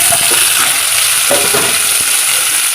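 Shallots, tomato, ginger and garlic sautéing in a pan for a mushroom gravy, a loud close hiss of frying with soft spatula scrapes and clinks against the metal.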